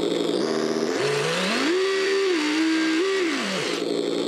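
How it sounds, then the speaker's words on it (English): A simulated race car engine from an RC car sound kit revs up and down in quick steady pitch sweeps, loud and continuous, with no talking. "There are good race car sounds on this."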